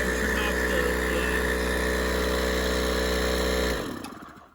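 A rebuilt Ferrari smog pump runs on a test bench with a steady, loud mechanical whine and drone, holding even for about four seconds before spinning down and fading out.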